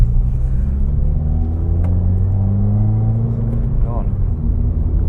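A 2016 Subaru WRX drives along with a steady low engine rumble and road noise, the pitch shifting slightly as it downshifts.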